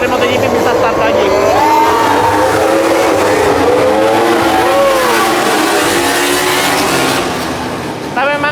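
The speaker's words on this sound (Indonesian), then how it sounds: "ternyata motor-motor balapnya dari MotoGP bisa start lagi." MotoGP racing motorcycles at Mandalika circuit scream past in loud, rising and falling engine howls with overlapping passes, the roar fading toward the end amid crowd noise and voices.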